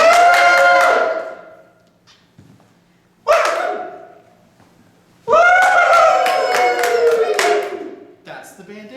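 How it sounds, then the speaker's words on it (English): A group of Cub Scout leaders at a roundtable cheering loudly for the bandana cheer, with whooping and clapping that swells in three bursts and drops into quiet between them. "You just throw it and then cheer until it drops"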